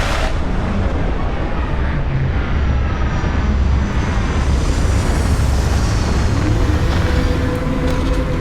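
A spaceship in Starfield settles in to land with a loud, continuous roar of engine thrust and rumble, steady and close throughout without any voices.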